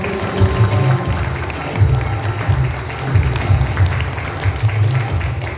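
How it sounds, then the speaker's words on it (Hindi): A church congregation at a prayer gathering claps together in thanks to God, strong bursts of hand clapping rising and falling in a loose rhythm over a low, droning background. "आइए हम ताली बजा के हम प्रभु को धन्यवाद दें"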